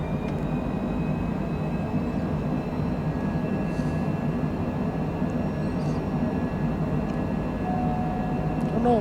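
A steady, even roar of a light Bombardier Challenger Longitude business jet climbing, heard as a constant cabin drone with faint whining tones and no voices over it.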